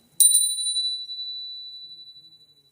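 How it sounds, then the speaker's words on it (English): A single bright bell strike rings out close and loud, then its clear tone slowly fades over more than two seconds in an otherwise silent room. "Because I'm going to get a bell."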